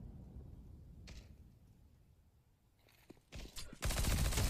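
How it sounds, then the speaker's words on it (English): In Counter-Strike, a decoy grenade gives off fake gunfire: faint bursts at first, then a loud, dense rattle of rapid shots that swells and fills the final second. "He fell for my decoy."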